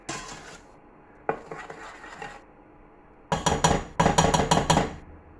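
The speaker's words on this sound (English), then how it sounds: "Give it a mix around, and then we'll make some jam." Strawberries being mixed in a pan for jam, a close clatter of scraping and clinking as a utensil knocks against the pan in bursts, ending in a quicker, busier run of strikes, with no talking.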